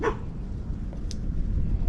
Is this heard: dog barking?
yes